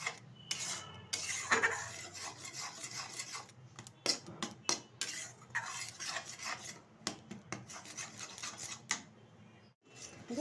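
Powdered milk is stirred in a pan while making kheer laddu, giving soft scraping and clinking of a spoon against metal in irregular strokes, faint and close, with no talking.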